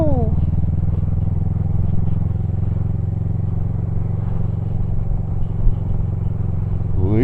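A motorcycle engine drones steadily on a damp, slippery road, its rising and falling tone sustained as it passes nearby, with a voice talking over it.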